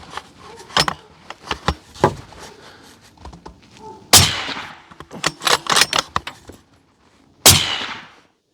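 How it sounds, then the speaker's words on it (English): A Remington 700 rifle fitted with an AB Raptor 8 suppressor with a 3-inch reflex fires two loud, sharp, clipped shots several seconds apart outdoors. Softer clatter and handling knocks come before and between them. "Remington 700 with a Raptor 8 with a 3-inch reflex. Send it."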